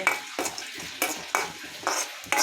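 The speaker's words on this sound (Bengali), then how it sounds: "গরম মশলার সাথে জিরা দিয়ে এরকম ভেজে" Cumin seeds fried with garam masala in a pan, giving a soft sizzle broken by several quick stirring scrapes in a loose rhythm, close up and alone without voices.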